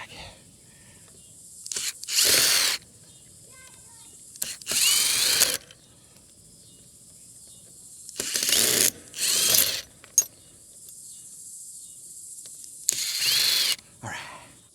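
Power drill backing screws out of a wooden deck, several short whirring bursts separated by pauses, close and fairly loud, with faint background between.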